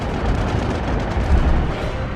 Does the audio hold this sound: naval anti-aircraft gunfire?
yes